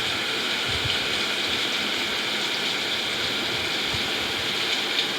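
A river flows beside the road in a bus driving video game, a steady, even rush of water that stays loud and unbroken throughout.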